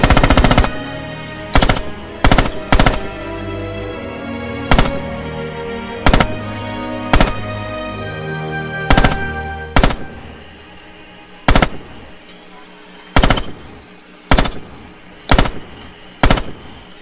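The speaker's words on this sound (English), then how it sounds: "Open fire downrange, small bursts." Machine gun fire from Red Orchestra 2, with loud short bursts of rapid shots repeating at irregular intervals and a brief gap between bursts, carrying on across the whole stretch with no talk.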